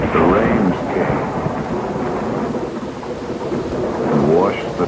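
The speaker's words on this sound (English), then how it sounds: "But the rains came" Heavy rain pours steadily while deep rolls of thunder rumble at the start and again near the end, a dense, loud storm with no voices over it.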